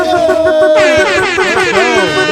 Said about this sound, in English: Do we start with an air horn? I think we do.